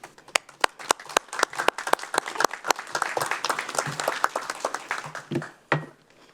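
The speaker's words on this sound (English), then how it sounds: "Thank you for that round of applause, Ayrton." Applause breaks out at a city council meeting, a round of sharp individual claps that swells into a dense, lively patter before tapering off near the end, fairly close and without talk.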